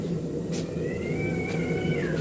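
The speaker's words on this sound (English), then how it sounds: "you cats need to chill" Cats fighting beneath a workshop during a live blade-forging session let out drawn-out, wavering yowls, with one long caterwaul rising and falling over steady background noise, and no talking.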